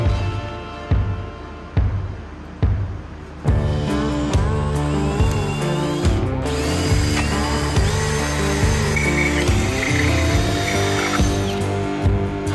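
A power drill whines and grinds steadily, drilling holes in a metal motorcycle ice racing fender, preceded by a few short bursts, loud and close with a mechanical rattle throughout.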